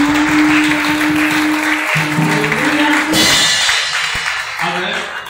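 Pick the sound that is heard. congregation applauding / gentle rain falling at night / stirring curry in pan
congregation applauding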